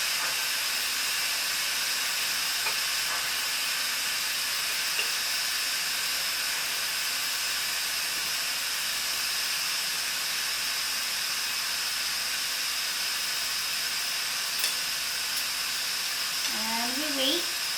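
Steam vents from the quick-release valve of an Instant Pot Duo Evo Plus in a steady, loud, broadband hiss that runs unbroken for the whole stretch, and a voice speaks briefly near the end.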